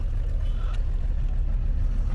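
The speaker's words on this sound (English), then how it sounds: "this car is misfiring" A misfiring car engine idles in a repair shop, giving a steady low rumble with an uneven, slightly lumpy texture, close and continuous.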